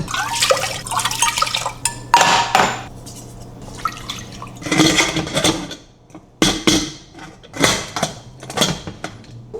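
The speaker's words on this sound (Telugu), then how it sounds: "వాటర్ తీసేసి డైరెక్ట్గా కుక్కర్లో వేద్దాం" Soaked millets and dal are drained of their water into a kitchen vessel, with splashing pours and drips coming in several short bursts alongside clinks of metal pots, close and clear.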